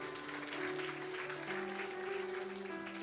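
Audience applause greeting a birthday guest during a Hindu religious discourse session, steady, continuous clapping over a faint sustained tonal hum.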